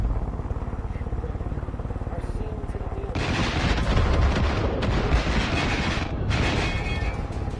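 Rocket fire and explosions in the shooter video game Far Cry 5, loud bursts of blast noise erupting over a rumbling, continuous battle backdrop, with a voice heard under the action.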